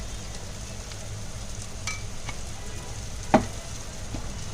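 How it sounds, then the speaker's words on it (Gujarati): Gravy seasoned with turmeric, salt and sugar simmers and sizzles in a pan, a steady close frying hiss with one sharp clink partway through. "ચાલો, આ હવે ગ્રેવી ચડે છે"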